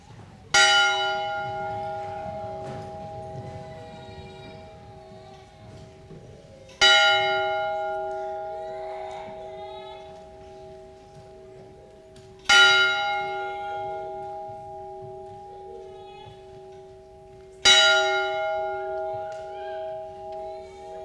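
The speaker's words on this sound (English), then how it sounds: "we will observe in silence the ringing of the bell." A large bell rung at a Fenton high school Class of 2025 graduation ceremony, struck four times at slow, even intervals, each clear ringing strike decaying before the next, with no talking.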